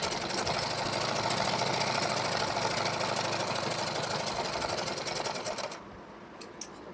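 A sewing machine runs steadily, stitching blouse fabric together with its lining in a dense continuous whir for several seconds before stopping, followed by a couple of faint clicks.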